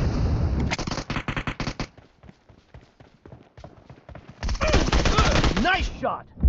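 Gunfire in the PUBG Mobile battle game: dense bursts of rapid shots up front, then scattered single cracks, then another loud sustained automatic volley near the end, with faint voices in between.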